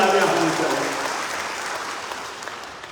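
An audience at a public event in Tripura's North district breaks into applause, a dense wash of clapping that starts strong with a voice over it, then slowly fades.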